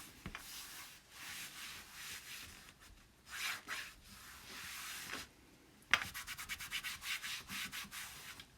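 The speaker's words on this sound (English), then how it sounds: "want to get in there with the board eraser to get all of that excess ink and the shadowing off of there" A board eraser rubs excess ink and shadowing off a chalkboard, making soft bursts of scrubbing that build into a quick run of short, rhythmic strokes near the end, close and fairly quiet.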